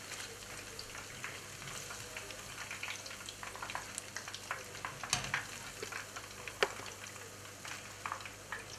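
Pieces of rainbow trout fry in hot oil with a faint, dense crackle, while occasional sharp taps and clinks come as pieces are lifted out of the pan.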